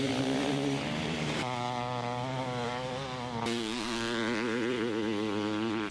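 Two-stroke Honda CR500 and Kawasaki KX500 dirt bikes rev with a sharp, buzzing, chainsaw-like wail, the pitch climbing and wavering through abrupt gear or throttle changes, heard loud and continuous without talk.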